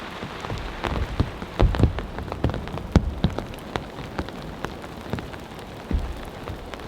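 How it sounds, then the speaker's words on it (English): Light rain patters on a large tent during a thunderstorm camping night, a steady hiss of drizzle with scattered sharper drops tapping close by. "Light rain, but it is raining."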